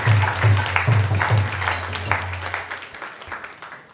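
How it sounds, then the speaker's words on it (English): An audience at an ISKCON temple program applauds, a dense wash of clapping that is strongest at first and gradually thins out over a few seconds, with a low hum underneath. "So let's give a big round of applause to everyone."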